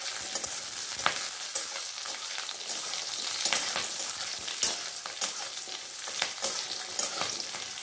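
Slit green chillies fry and get stirred in a pan, a steady close sizzle broken by repeated scraping strokes of a spatula, with no voices.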